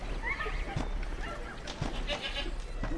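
Goat bleating in the video game Homefront, a few short, wavering calls scattered over low background noise.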